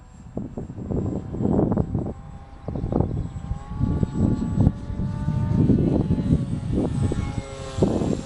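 A Phantom FX-61 FPV flying wing cruising at half throttle gives a steady propeller drone with slowly shifting motor tones and wind rush, staying fairly loud and close throughout.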